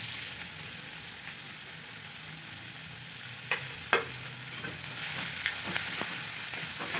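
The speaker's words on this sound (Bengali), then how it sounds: "এরপর এতে আমি কুচিয়ে রাখা পেঁয়াজগুলো দিয়ে দিচ্ছি" Chopped onions fry in a pan, a steady soft sizzle with a few sharper crackles and stirring clicks partway through, close and fairly quiet.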